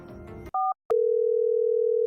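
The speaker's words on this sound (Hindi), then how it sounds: "तो फिर मैंने धुन्नू को फ़ोन किया" Telephone line tones as a call is placed: a short two-tone beep, a brief pause, then a loud, steady unbroken tone after a moment of voice at the start.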